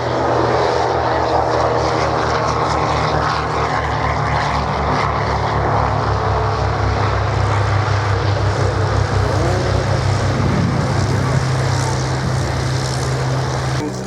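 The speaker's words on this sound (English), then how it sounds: "There's the aircraft, the first aircraft." Propeller aircraft flying at the 2014 Shoreham Airshow, a continuous loud droning engine roar with a steady low hum, sustained throughout and heard close with no speech.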